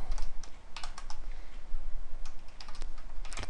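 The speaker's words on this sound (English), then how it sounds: "Having typing difficulties today, apparently." Someone types on a computer keyboard in quick, uneven bursts of close, crisp key clicks separated by short pauses, alone with no voice.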